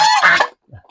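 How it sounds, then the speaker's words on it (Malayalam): A goose gives a loud, close, raspy honk on a farm kept alongside turkeys, a single strong call that fades, followed by a faint low trailing note. "ടർക്കിയും വാത്തയും ഉണ്ട് ഇവിടെ."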